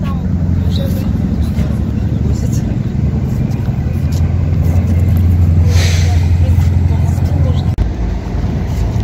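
Cars and other vehicles rumbling onto a ferry at a harbour in Turkey, a continuous low engine drone with a brief hiss, while a person talks over it.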